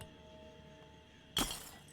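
A glass bottle smashes once in The Walking Dead: Saints and Sinners, a single sharp, bright shatter with a short scatter of shards after a quiet stretch.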